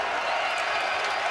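A basketball arena crowd at a UConn men's game against Cincinnati cheers and applauds in a dense, continuous roar of noise.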